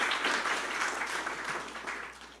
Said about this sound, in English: let's give him a round of applause for all his hard work